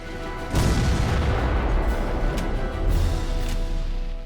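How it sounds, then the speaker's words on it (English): Heavy cannon fire from an artillery sequence in a Civil War video game on Xbox 360, a loud sudden boom with a rumbling tail and further muffled blasts over continuous battle noise, no voices. "you'll have sections that let you use weapons like cannons to soften up an enemy position before moving in"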